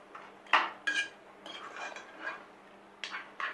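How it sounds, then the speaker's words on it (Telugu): Mutton and gongura leaves being stirred together in a pot, with a spoon or ladle scraping and clinking against the metal in several separate sharp bursts over a low steady hum. "మటన్ ఈ గోంగూర ఉడకపెట్టిందంతా కలిసిలాగా అంతా అడుగుది పైది కలిపేసుకుని"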